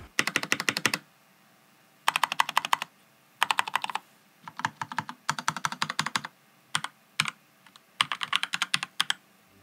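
Rapid clacking keystrokes on a modded Keychron K4 mechanical keyboard come in several quick bursts separated by short pauses, crisp and close.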